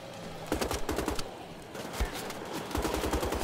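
Automatic gunfire from gun-wielding zombie enemies in the shooter game Wolfenstein: The Old Blood, rapid bursts of shots that come and go over a few seconds, fairly close and loud, with no talk.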